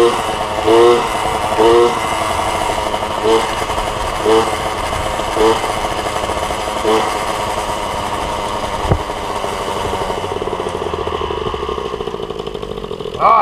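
An MBK 51 Magnum moped engine runs steadily at close range, loud and buzzing, with a few rhythmic throttle blips early on before it settles into an even idle.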